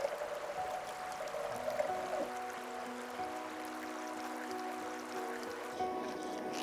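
A salmon stream flowing into a deep pool under a small waterfall, a soft steady trickle and splash heard fairly faintly, with tonal background sounds layered over it and no talking.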